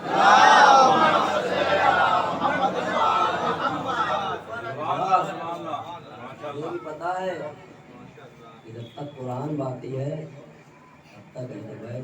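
A crowd at a Shia majlis gathering roars back loudly in unison, a dense shout of massed voices that swells at the start and then thins out into mixed chatter and scattered voices.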